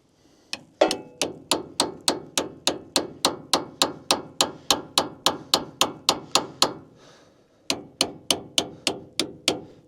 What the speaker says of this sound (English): I'm gonna get it shorter so I can hammer on that a little better